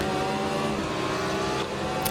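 Car engines racing in a Forza driving game, a loud continuous engine drone with a rising pitch, held steady across the whole moment.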